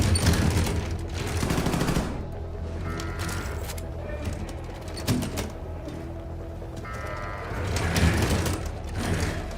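Video game gunfire crackles in bursts alongside mechanical clicking and rattling, fairly loud and close, with quieter stretches in between.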